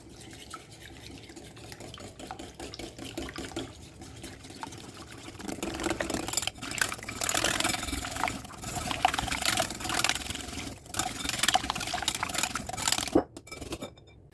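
Bread dough ingredients being mixed with oil in a bowl, producing soft wet stirring and squelching that grows louder and busier midway, with a few sharp knocks near the end.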